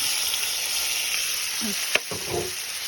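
Chopped onion, garlic and ginger frying in hot oil: a steady close sizzle with a sharp clatter of the pan or spoon partway through, followed by stirring scrapes.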